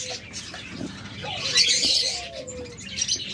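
Tame cockatiels at a bird sale give short chirps and whistles at moderate distance, mixed with other cage-bird calls and a low background hum.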